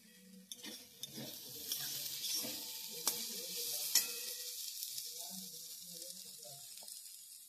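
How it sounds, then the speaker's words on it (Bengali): Tomato tossed into a pan of sizzling winter vegetables and dalia, giving a soft, fairly quiet frying hiss broken by a few sharp clinks and spoon scrapes. "এরপর আমি টমেটোটা দিয়ে দিচ্ছি"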